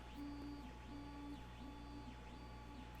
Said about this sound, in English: my 3D printer's going.